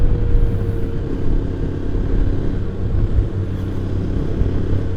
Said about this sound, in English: There's no strain on the engine at all. Bike's pulling really well.